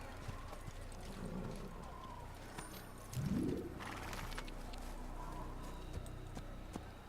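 Faint horse hooves clop along at a steady pace over a quiet background in the video game Assassin's Creed, with a soft whinny-like burst partway through.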